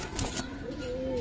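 Giribaz pigeons at a Bangladeshi pigeon seller's loft give a low cooing call, with one drawn-out coo standing clear over a busy background.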